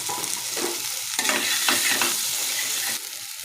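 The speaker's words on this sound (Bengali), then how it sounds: "এখন আমি যে সবজিগুলো রয়েছিল সেই সবজিগুলো সব দিয়ে দিচ্ছি।" Mixed vegetables tipped into onions already frying in a pan with turmeric, a loud continuous sizzle broken by scraping stirs, cooking close up with no talk.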